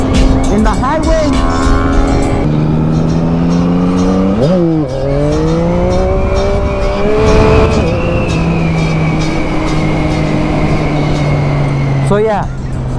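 A 2021 Yamaha MT-09 motorcycle is ridden hard, its engine revving loudly up through the gears with rising pitch sweeps and brief drops at shifts, wind rush throughout and a voice talking over it.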